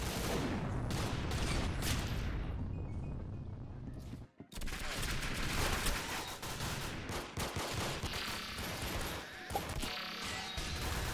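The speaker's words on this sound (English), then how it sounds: "I have a machine gun." Rapid machine gun fire in the Roblox shooter game Arsenal, dense bursts of gunshots and impacts crowding the mix, loud and continuous with one brief gap.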